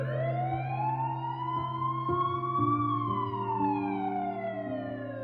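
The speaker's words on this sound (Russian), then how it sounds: "Приехала полиция и скорая." Police and ambulance sirens wail steadily, a loud sweeping tone rising and falling over a continuous low drone, with no voices.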